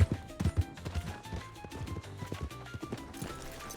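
Horse hooves in the western game Red Dead Redemption 2: a steady, fairly faint clip-clop of a large horse moving along, rhythmic hoofbeats repeating throughout with some low background sound.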